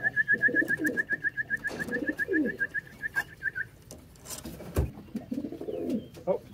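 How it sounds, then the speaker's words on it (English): Racing pigeons coo softly and repeatedly at a loft, their low burbling calls coming in close bursts, while a rapid electronic beep sounds steadily in the first half. "So 12 race birds just flew overhead."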